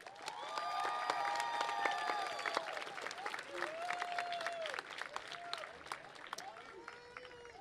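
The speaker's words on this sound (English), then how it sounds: "Please join me in applauding our faculty." A large audience applauds the faculty at the 2019 MiraCosta College commencement, dense sustained clapping with scattered cheers and whoops rising over it, fading slightly toward the end.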